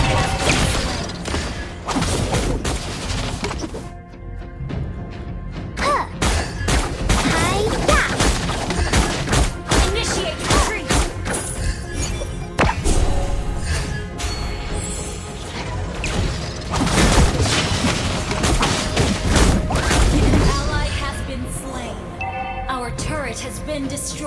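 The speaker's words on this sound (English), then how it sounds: "Our turret is under attack." Gunfire attacking a turret in a video game: dense bursts of shots, mechanical clanks and crashing impacts, loud and continuous, with occasional game voice lines mixed in.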